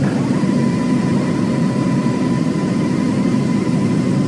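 An airliner in the FS2004 flight simulator taxis to its gate at the end of a Paris CDG to London Heathrow flight, a continuous, even jet engine drone with no voices.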